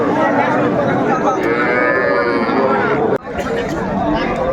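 Young bulls and heifer calves at the Aftabganj cattle market in Dinajpur low and moo close by amid market hubbub, while someone speaks loudly over the animals.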